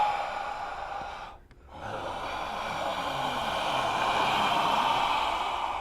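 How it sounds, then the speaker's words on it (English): Slow human breaths recorded in a Foley room for sound design, a long drawn exhale, a brief pause, then a rising airy inhale that swells and holds, close and alone. "record all these inhalings and exhalings and turn that into a musical statement"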